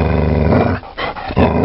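An angry dog growls in a Tagalog aswang horror story, a loud, close, rumbling snarl held for about a second, breaking briefly before resuming.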